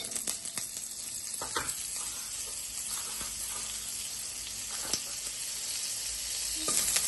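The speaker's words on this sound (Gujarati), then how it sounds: "અને આમાં ને આમાં હું હવે વેજીટેબલ ફ્રાય કરીશ." Vegetables fry in oil and butter in a home kitchen pan, giving a steady close sizzle with a few sharp clinks and scrapes of stirring.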